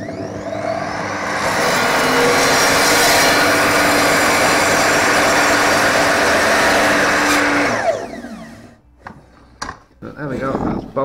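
A power saw cuts through a leg piece for a perspex protective screen. It whines loudly and steadily for about eight seconds, then spins down into quieter clatter and handling noise.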